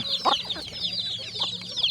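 Chickens cluck close by in a busy chorus, with a rapid high chirping from chicks running underneath throughout, as free-range farm chickens are fed paddy rice in the evening.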